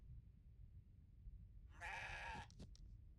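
A goat bleats in the video game CrossCode, one short nasal cry followed by a couple of brief clipped echoes, standing out clearly over quiet background game music.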